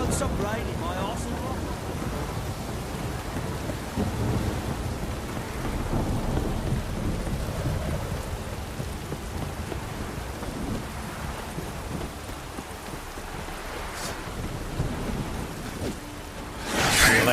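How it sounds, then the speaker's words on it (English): Rain and thunder in the video game The Witcher 3: Wild Hunt form a heavy, continuous downpour hiss with rolling thunder rumbles underneath and a couple of sharper bursts near the end. "This downpour's a bastard"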